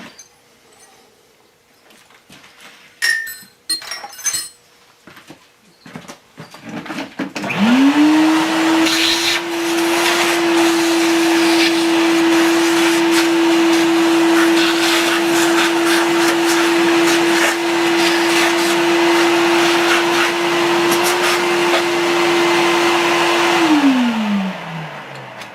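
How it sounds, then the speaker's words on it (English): A shop vacuum starts up in a woodworking shop and runs at a steady, loud whine for about sixteen seconds while it sucks up trash and debris, then winds down. A few clattering knocks come just before it starts. "we're going to go ahead and we're going to get the vacuum here a little bit so we can get rid of some of this trash here"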